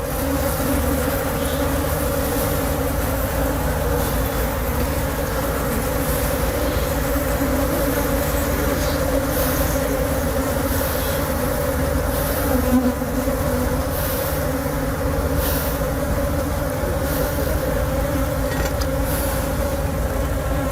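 A colony of Apis cerana indica honeybees hums in a dense, continuous buzz, close and loud, with the drone holding steady throughout and no voices over it.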